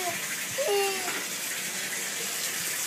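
Water running from a tap into a bathtub, a steady broadband rush that holds through the clip, with a few faint squeaky sounds on top.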